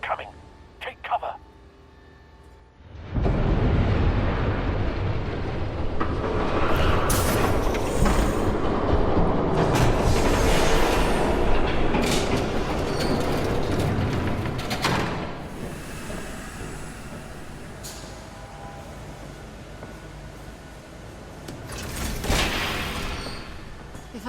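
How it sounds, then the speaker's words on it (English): Train rumbling past in the Batman video game, starting abruptly with a loud sustained roar and rattling that swells, then fades with a late metallic burst; voices speak over parts of it. "There's a train coming."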